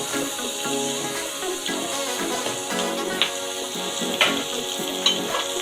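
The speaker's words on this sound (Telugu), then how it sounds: "కొంచెం అల్లం వెల్లుల్లి పేస్ట్ కూడా వేయాలి." Ginger garlic paste sizzles steadily in a hot pan for veg biryani, a loud close frying hiss with occasional stirring scrapes and clinks, no voices over it.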